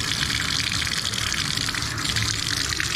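A small bathtub fills from its tap after a handle and overflow repair, a steady loud gush of running water pouring continuously throughout.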